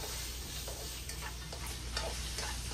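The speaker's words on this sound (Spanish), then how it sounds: "Voy a dorar un poquito el tocino." Bacon browning in an ungreased pot for lentil soup, a steady faint sizzle with light scraping stir sounds throughout and no voices.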